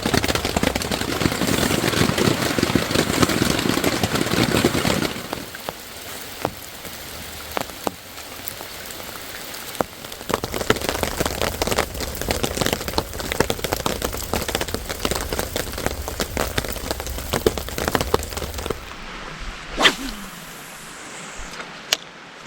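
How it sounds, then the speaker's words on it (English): Rain patters steadily and densely on a tent during solo camping by a lake, loud at first, then thinning to a softer drumming with scattered heavier drops, and finally easing near the end. "I'm getting a little bit of rain coming in the seams in certain areas"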